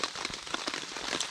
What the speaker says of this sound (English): it's a shame it's raining and a bit midgy